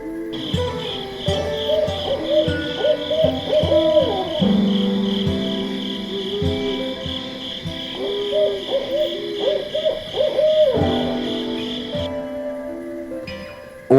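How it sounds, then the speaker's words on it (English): Owls give repeated hooting calls in a steady series of low, rounded notes, close and fairly loud, with a constant insect trill running underneath and no talking. "individual owls may have slight variations in their calls, just like humans have different voices"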